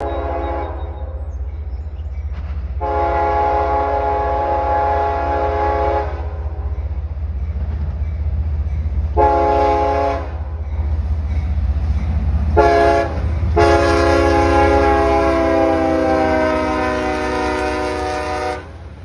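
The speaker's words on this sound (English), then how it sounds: "Next up is CSX M566, a little while after being released from a siding where it waited for the previous two intermodal trains to pass it by." CSX M566, a freight train in Westfield, New York, rumbles past close by while its horn sounds several loud, sustained blasts, the last one long, over the steady rolling noise of the cars.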